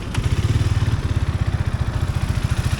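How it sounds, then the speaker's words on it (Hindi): A Hero Xtreme 250R motorcycle idles close up, its 250 cc engine thumping in a steady, even, rapid rhythm with a light mechanical clatter. "आप इंजन साउंड सुनो कैसा आ रहा है।"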